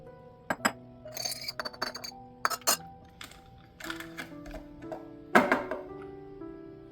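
A 16-ounce glass spray bottle filled with a homemade granite and marble cleaner is capped and handled on a kitchen counter, giving a series of sharp glassy clinks and taps scattered across a quiet background.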